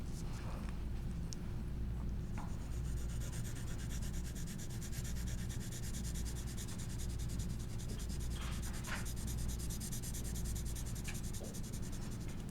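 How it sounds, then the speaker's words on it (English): Pencil shading on paper while drawing a glass bottle, a close, soft, continuous scratchy rubbing with faint strokes and a few light taps, and no talking. "So I'm gonna start inside the bottle, and then I'm gonna add the darkness around the bottle too."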